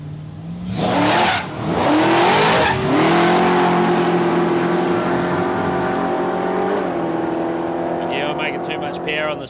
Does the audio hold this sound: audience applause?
no